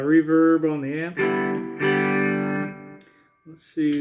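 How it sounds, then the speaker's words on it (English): Electric guitar notes and a sustained chord ring out with a reverberant amp tail, fading before a couple more short strums. "Reverb on the amp."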